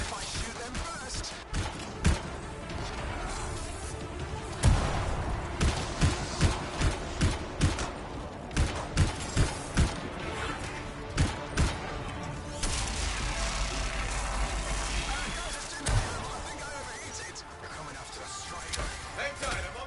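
Video game gunfire, scattered sharp shots and impacts in an irregular rhythm under ongoing sound effects and talk, moderately loud with a rumbling stretch midway.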